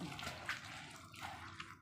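Water pours and splashes briefly at close range, quiet and continuous with small gurgling fluctuations.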